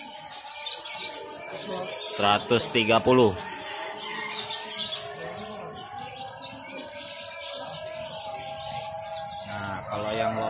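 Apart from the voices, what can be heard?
canaries chirping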